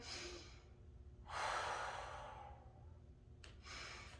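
Slow, deep yoga breathing, one long audible exhale swelling and fading away, followed by the start of another breath, close and quiet with no talk.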